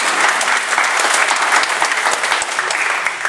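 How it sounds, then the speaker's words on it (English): A congregation in a church claps together, brisk dense applause at steady volume, close and continuous for the whole short span with no voices over it. "you can give her a little applause for that"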